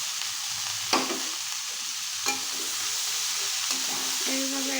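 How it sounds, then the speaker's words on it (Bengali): Long beans being added to shrimp frying in a pan, with a steady sizzle throughout, occasional stirring clatters and scrapes, and one soft tonal ring near the end. "এখন এই বরবটিগুলো দিয়ে দেব।"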